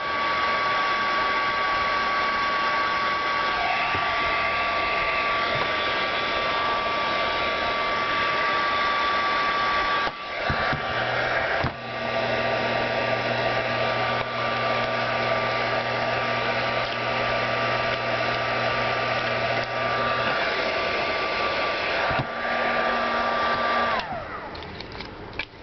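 A hair dryer blows continuously while heating glued wood pieces for a small round keepsake box, a steady loud whine and airy rush with brief dips and shifts in pitch as it is moved.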